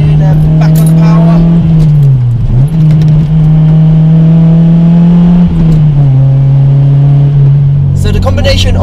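A Honda Civic Type R EP3 engine with Mugen Twin Loop exhaust and JDM induction kit drones loud and close, revving steadily with pitch dips at each gear change or lift, then rising again as it accelerates hard.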